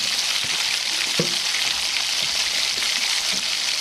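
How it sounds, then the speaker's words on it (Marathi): Chopped onions sizzle and fry steadily in hot oil in a pan for a soya chunk dry curry, a continuous crackling hiss with occasional soft stirring knocks, close and alone. "पहिला आपण कांदा गरम तेलामध्ये फ्राय करून घेऊया."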